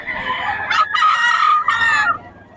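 A Pumpkin Sweater gamefowl rooster crows loudly and close, one full drawn-out cock-a-doodle-doo with a brief break partway through.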